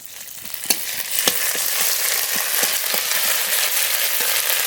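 Ginger paste, cumin paste and spices fry in a pan with a steady, loud sizzle, broken by a few sharp clicks of stirring.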